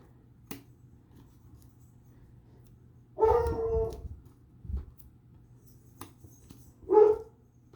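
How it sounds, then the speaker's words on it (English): A Treeing Walker Coonhound indoors gives two short bursts of howling, yowling vocal calls a few seconds apart, moderately close, with small knocks between them in an otherwise quiet room. "I have a Treen Walker Coonhound, so he's a hound dog, so he likes to howl a little bit"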